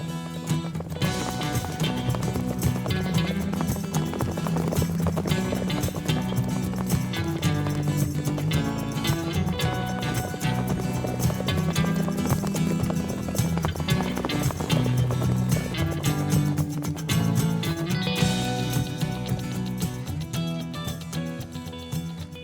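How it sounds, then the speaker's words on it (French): Hooves clip-clop quickly and steadily as horses are moved across a ranch, a dense, close, running rhythm that lasts throughout. "Là, vous venez de déplacer des chevaux, c'est ça?"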